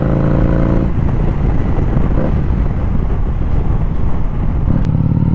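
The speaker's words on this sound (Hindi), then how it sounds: "बाइक की आवाज़ भी चेक कर लो।" A motorcycle engine drones while riding, recorded through a GoPro Hero 8 with media mod and microphone, a loud continuous rumble mixed with heavy wind buffeting, steady throughout with faint shifts in pitch.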